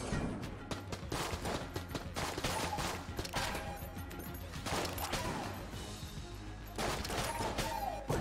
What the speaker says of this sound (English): you fire so many bullets when you reload